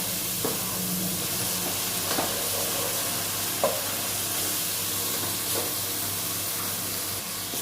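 Red chilli powder and salt masala being fried in a pan for a turnip and spinach curry, a steady close sizzle with occasional stirring scrapes, no talking.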